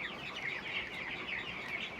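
Young broiler chickens, 21 days old, fill a poultry farm shed with a dense, continuous chorus of cheeping and soft clucking, steady and moderately distant with no talking.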